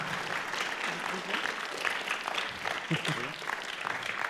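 Audience applause in a Lausanne cinémathèque hall welcoming two guest speakers, a steady, dense wash of clapping that fills the room, with a voice briefly audible underneath.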